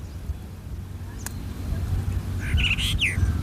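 A bird gives a few short chirping calls near the end over a low rumbling background, fairly clear but not loud.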